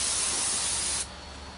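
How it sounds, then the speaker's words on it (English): Brake cleaner sprayed onto a Power Stroke turbo compressor wheel, a single loud, close aerosol hiss lasting about a second before cutting off abruptly. "You can just spray a little brake cleaner on it."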